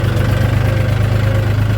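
A farm tractor's engine runs close by with a loud, steady, low chugging idle and a pulsing rhythm throughout.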